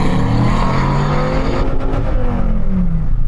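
A Dodge Viper's engine roars loudly and climbs in pitch as it launches and accelerates hard, with the revs rising through a gear before easing off.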